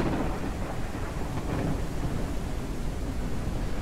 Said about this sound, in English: away from the lightning, just away from the storm